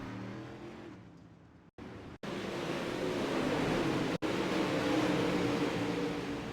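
Several UMP modified race cars roar around the Eldora dirt track three and four wide, a loud continuous engine drone with brief cuts in the sound and no talk.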